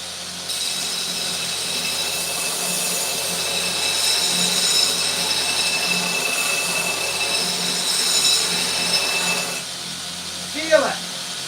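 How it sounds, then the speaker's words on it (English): An axe being reprofiled against very rough sandpaper on a power tool, a steady, loud abrasive whir that runs for about nine seconds before stopping, followed by a brief voice. "It's not hot at all, friends. And the reason it's not hot is because this is very rough sandpaper."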